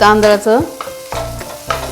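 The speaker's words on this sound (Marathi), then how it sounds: "तर ते आपल्याला तुपात भाजून घ्यायचे." Ground rice roasting in ghee is stirred in short, loud strokes, each scrape carrying squeaky tonal whines over a soft sizzle.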